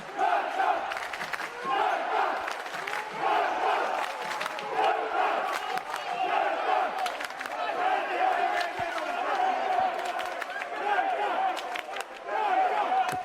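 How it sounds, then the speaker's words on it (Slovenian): Basketball fans in a packed arena chant and shout continuously throughout, a dense roaring crowd with rhythmic cries and scattered sharp claps, at a game between Krka and Ilirija. "o navijačih raje ne bomo rekli ničesar, ker vse lahko slišite preko teh mikrofonov, ki jih imamo nameščene v dvorani"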